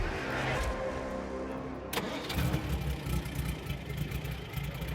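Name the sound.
vintage car engine cranking and starting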